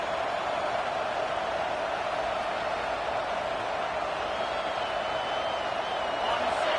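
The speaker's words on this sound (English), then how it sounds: "this crowd is fired up. Listen to this noise here." Stadium crowd in EA Sports College Football 26, at a Florida Gators home game, makes a constant, dense roar that holds at an even level throughout with no break.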